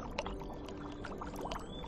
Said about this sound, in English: There has also been a lot of work done on water sounds by rivers to mix more effects together.